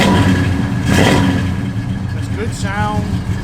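A 1971 Pontiac GTO engine runs close by, with a brief rev rising and settling back toward idle, and a voice speaks over it.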